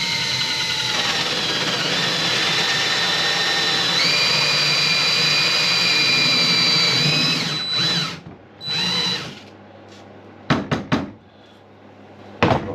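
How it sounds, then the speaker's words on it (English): A power drill runs loud and steady for about seven seconds, its whine shifting pitch partway, then stops, followed by a few short bursts of drilling and clunks. "I'm just going to drill it."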